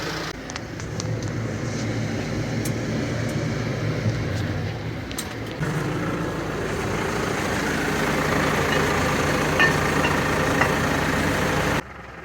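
A greased-up farm tractor rumbles at steady idle close by, a low, continuous engine drone with faint clicks and knocks on top, running without pause until it cuts off abruptly near the end.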